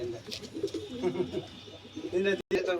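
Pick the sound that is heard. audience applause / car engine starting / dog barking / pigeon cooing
pigeon cooing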